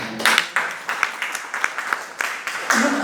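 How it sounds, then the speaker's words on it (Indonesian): Church congregation during a sermon claps in scattered bursts, individual hand claps clearly audible and fairly close, rising and fading over a few seconds with a voice briefly underneath. "Yang setuju tepuk tangan dulu buat Tuhan."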